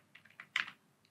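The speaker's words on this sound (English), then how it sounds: "now I will type the command pip" Short burst of typing on a computer keyboard entering a terminal command: a handful of quick, close key clicks with one louder cluster midway, no talk.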